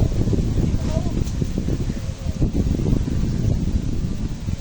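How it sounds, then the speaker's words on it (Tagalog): Steady, loud wind buffeting the microphone with low rumbling gusts up in a mango tree, and a voice speaking briefly under it. "Lakas ng hangin."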